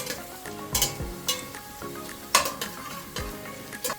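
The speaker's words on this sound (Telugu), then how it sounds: "మనం బాగా ఫ్రై చేసుకోవాలి ఫ్రై అవ్వాలి" Onions fry in a pan for biryani, a soft continuous sizzle broken by a few louder scraping stirs and clatters of the spoon against the pan, close and unaccompanied by speech.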